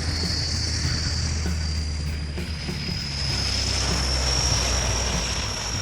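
A Convair 580 turboprop air tanker flies past with a loud, steady engine drone and a high propeller whine that slowly shifts in pitch, alone with no voices.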